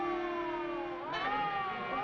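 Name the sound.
siren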